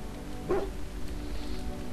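A dog in the Dragon Age: Origins video game gives a single short bark over a low, steady background hum.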